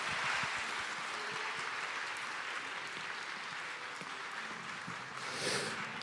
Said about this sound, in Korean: 큰 박수로 부탁드릴게요.